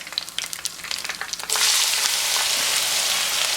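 Onion goes into hot oil with two bay leaves and two pieces of cinnamon. Soft crackling pops are followed by a sudden loud, steady sizzle that fills the rest of the moment up close.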